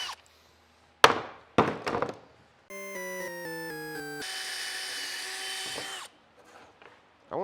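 A power drill drives screws into a wooden beehive bottom board, with a few sharp knocks and handling noises, then a rising whirring burst as the screw goes in, followed by a steady high motor hum before stopping.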